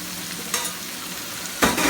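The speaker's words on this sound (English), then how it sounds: "Okay, so stirring. It's been about 1 minute. Let it get a little bit brown." Food frying in a pan as it is stirred and browned: a steady close sizzle with two brief louder scraping bursts from the stirring, no voices.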